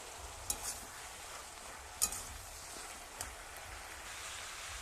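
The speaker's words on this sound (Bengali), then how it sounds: "এই ভালো করে মিশিয়ে নিয়েছি মশলাগুলো" Masala and chilli powder being stirred into food in a pan in a village kitchen: soft scraping and faint sizzling throughout, with a few sharp clinks of the spoon against the pan, fairly close and quiet, no talk.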